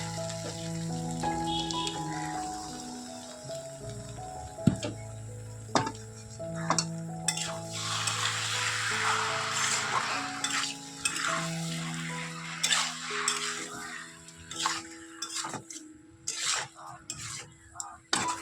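Bombay duck (lote fish) frying in hot oil, a broad sizzle swelling in the middle with scattered utensil clinks, partly under background music.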